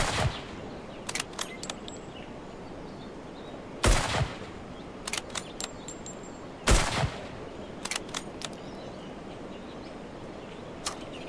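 Three heavy, high-powered gunshots ring out in the zombie survival game HumanitZ, spaced a few seconds apart, each loud and sharp with a short tail, separated by quieter clicks and light handling noises.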